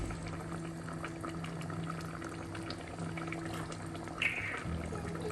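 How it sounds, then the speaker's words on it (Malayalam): A neymeen (kingfish) coconut milk chili curry simmers gently in a pot, making a soft, continuous bubbling hiss with a faint kitchen hum and one brief clink partway through. "ചെറുതായി തിള വന്നാൽ മതി"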